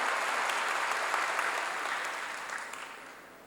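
A church congregation applauds to give glory to God, a broad wash of many hands that is fairly faint and distant and slowly fades away.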